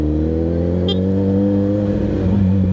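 A 1000cc liter-class motorcycle engine holds a steady drone at night on cruise control, loud and constant with a deep even hum and no revving.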